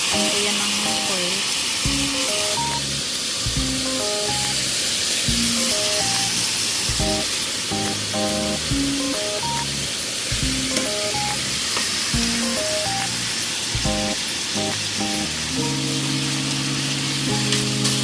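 Pieces of chicken fry in a pan of oil, giving a constant close sizzling hiss that runs the whole time beneath light background music.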